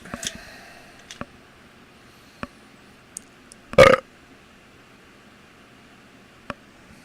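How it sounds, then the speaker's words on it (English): A single short burp stands out near the middle, amid faint ticks and light rustling in an otherwise quiet space. "Did you hear my burp?"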